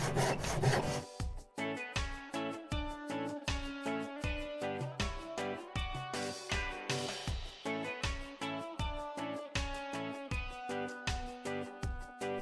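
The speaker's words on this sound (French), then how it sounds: "scier ce que j'ai en trop dans ma boîte à onglets" A hand saw cuts through a small piece of wood held in a miter box, loud close rhythmic rasping strokes repeating back and forth at an even pace, with no talking.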